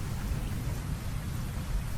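Steady rain with low thunder rumble from a storm, a continuous dense wash of noise holding at an even level throughout with no voices.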